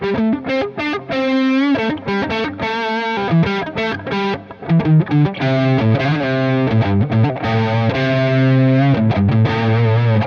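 Distorted electric guitar plays a bluesy lick with choppy phrasing, notes cut short between bursts, loud and close.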